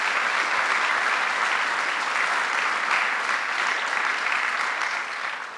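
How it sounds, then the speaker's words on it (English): A large audience at a downtown Syracuse business announcement claps in sustained, dense applause that holds steady throughout and eases slightly at the end, with no voices over it. "Let's give her a round of applause"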